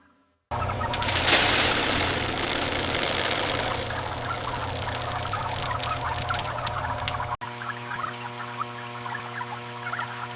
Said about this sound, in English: juvenile turkeys feeding aggressively across the entire barn.